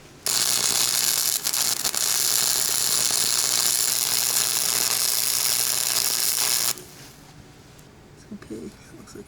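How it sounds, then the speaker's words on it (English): Steady, loud welding buzz on a redesigned manual shifter for a Lexus SC400, running continuously for several seconds before cutting off abruptly into quiet shop noise. "This looks a lot straighter than last time, so let's try to weld it up."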